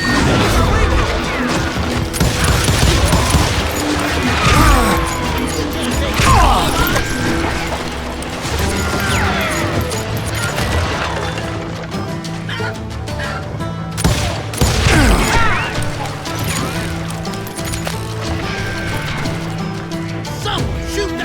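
Western gunfight in Call of Juarez: Gunslinger, with loud overlapping gunshots, crashes and impacts crowding a busy game mix over a musical bed throughout, with scattered sharp bursts and no clear talk.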